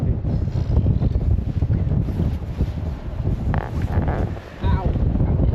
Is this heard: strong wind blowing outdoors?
yes